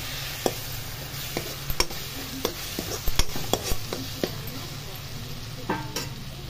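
Ginger garlic paste frying with onions in a pan for a prawn curry: a continuous sizzle broken by repeated clicks and knocks of stirring, close and fairly loud, with no talk.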